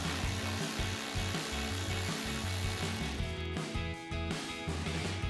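Close, continuous clicking comes from a ratchet with a 7 mm socket and extension as it backs out a screw in a pocket near the side marker of a 2024-2026 Ford Mustang bumper, thinning out near the end.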